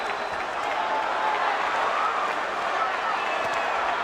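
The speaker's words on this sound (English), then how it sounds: "The crowd gets so excited when Oscar does anything" Boxing arena crowd roaring for Oscar De La Hoya during his fight with Tito Trinidad, a constant wash of cheering and noise under a ringside commentator's voice.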